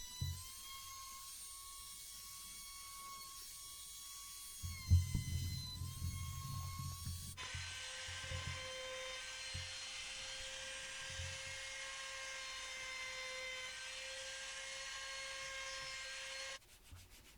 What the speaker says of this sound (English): I took a router and I used a round over bit to go round all the edges